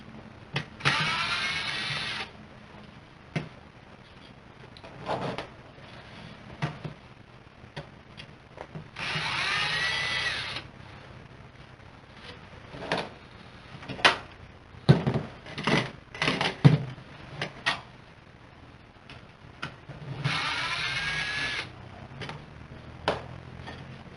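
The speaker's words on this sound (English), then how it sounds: "you're going to want to remove them screws and save them" Power drill removing the two screws from the template of a bathtub-to-walk-in-shower conversion kit base: three sustained whirring bursts of a couple of seconds each, close and fairly loud, separated by scattered clicks and knocks of handling.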